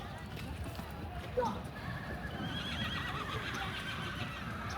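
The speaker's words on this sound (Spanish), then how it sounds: "Los yeguerizos se quedan a la entrada y ya dejan aquí a todos los caballos" A herd of Marismeña mares streams in during the traditional Saca de Yeguas in Almonte, Doñana, with a dense rumble of many hooves, a brief whinny and shouting people over steady crowd noise.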